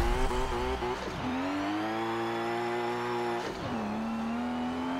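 A race car engine in Forza Motorsport 7 revs high and strains, dropping briefly between gear shifts before climbing again, loud and close with no voices.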